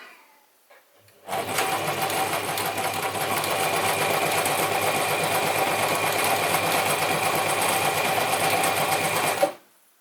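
Gritzner 1002 or Pfaff 307 sewing machine sewing a narrow zigzag at medium stitch length, starting after a quiet moment and running steadily and loudly for about eight seconds before stopping abruptly.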